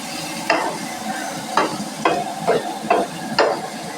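Onions sauté in a hot pan for chicken chilli, with a steady sizzle broken by about six sharp scraping stirs at a fairly regular pace, close and alone.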